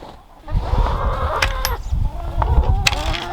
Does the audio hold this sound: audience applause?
no